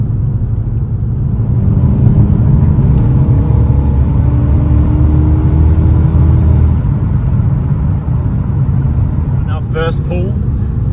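Cammed 5.0-litre Ford AU Fairlane engine pulling hard through the gears: a loud, steady, close rumble whose pitch climbs as it accelerates.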